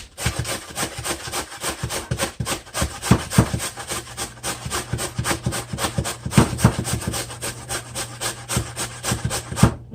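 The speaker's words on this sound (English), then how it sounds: "I'm going to grate it up on one of these here," Sweet potato rubbed back and forth across a hand grater, a steady run of close, rhythmic scraping strokes that goes on with no one speaking.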